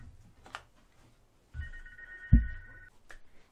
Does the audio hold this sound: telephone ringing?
yes